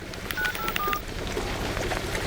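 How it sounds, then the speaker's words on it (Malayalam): A phone keypad sounds a quick series of about three or four short dialing beeps, each tone a different pitch. Faint background hiss sits underneath, and no one speaks. "ഞാൻ വേണേ ഫോൺ വിളിച്ചു തരാം, ചേട്ടൻ ചോദിക്കേ."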